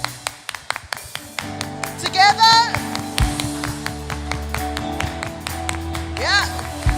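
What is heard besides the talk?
congregation clapping together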